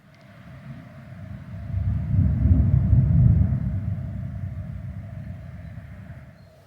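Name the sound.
distant thunder rumbling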